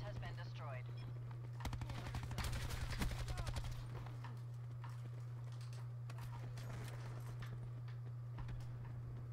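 Call of Duty Black Ops 4 gunfire, rapid automatic bursts crackling in a cluster mid-clip with scattered single shots afterward, over a steady low game hum; a player speaks in places.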